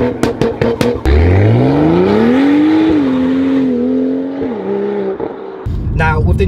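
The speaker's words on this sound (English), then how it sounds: "a Scorpion turbo back exhaust, which, as you can tell from the flybys and everything else, this car sounds insane" BMW M2 with the N55 engine and a Scorpion turbo-back exhaust revs up loud and close, the engine note climbing steadily, holding high, then dropping off, with a few sharp pops and blips before and after.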